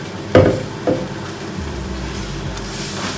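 Onion and tomato paste stirred in a frying pan, two distinct scraping strokes of a spoon over a soft continuous sizzle, close and quiet with no talking.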